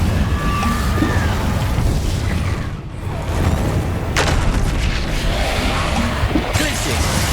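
Incendio fire spells cast in Hogwarts Legacy, with bright bursts rising over a dense, steady wash of game combat noise, the sharpest flare arriving partway through.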